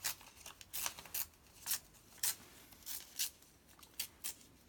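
Scissors snip through paper ephemera being cut up for Christmas journals, a quiet run of about a dozen short, crisp cuts at an uneven, unhurried pace, close by and alone.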